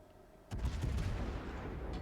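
Baltimore heavy cruiser main gun turrets firing in a World of Warships ranked battle, a sudden loud boom that breaks into a sustained heavy rumble.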